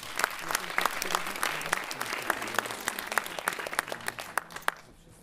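Audience at a sports gala claps steadily, crisp distinct hand claps in a moderate round that thins out and fades near the end, with a murmur of voices underneath.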